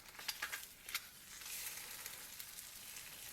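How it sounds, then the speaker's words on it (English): An egg fries in avocado oil in a cast iron pan, giving a faint, steady sizzle with a few soft pops early on, heard alone without talk. "We're gonna cook an egg in a cast iron pan."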